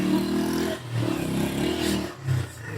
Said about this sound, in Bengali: এ ভাই মোটর সাইকেল চালাইতেছে